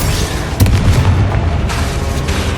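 Confringo spell blast in Hogwarts Legacy, a loud deep boom early on followed by a rumbling tail under continuous battle noise.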